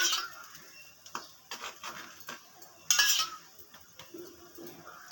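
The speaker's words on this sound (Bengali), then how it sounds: "এইবার ডিমের সাদা অংশটা এটার ওপর দিয়ে জাস্ট একটুখানি এরকমভাবে মিশিয়ে দেবেন চামচ দিয়ে" A metal spoon scrapes and clinks against a dish while stirring egg white into a breakfast dish, light irregular taps and one louder clatter, close and fairly quiet with no talk.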